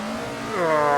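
A historic 1960s GT race car engine in the AC Legends GTC 60s mod for a racing sim revs up sharply, its harsh rising whine loud and close, alone without talk.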